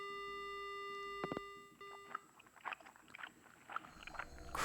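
In a horror video game, a steady telephone dial tone cuts off and gives way to faint, irregular crunching and wet smacking, like someone chewing, quiet and close.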